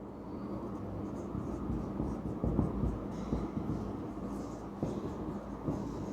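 Marker or chalk writing a statistics definition on a classroom board, a steady scratchy scrawl with short stroke bursts running throughout, fairly close and continuous, no talk.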